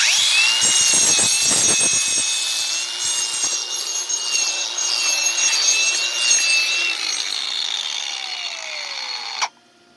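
A Bauer grinder runs without its dust vacuum attached, giving a steady, loud abrasive grinding whine with some rough scraping bursts early on, then cutting off abruptly at the end.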